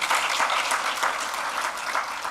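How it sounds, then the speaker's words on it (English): A symposium audience applauds correctional officers with a steady, dense wash of clapping from a large seated crowd, continuous and even throughout. "I would want you to give them a little applause,"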